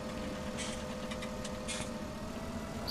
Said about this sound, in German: Das ist mal ein Traktor.